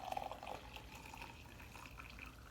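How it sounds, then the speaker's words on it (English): Coffee pours from a pot into a cup, a faint liquid trickle and splash close by. "I'm actually pouring my coffee."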